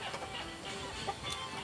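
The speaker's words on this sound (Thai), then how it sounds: "ไก่กับพ่อไก่วะ" Chickens and a rooster clucking in a Thai or Lao rural setting, a steady low murmur of fowl sounds with a few brief louder clucks, faint and continuous with no talk.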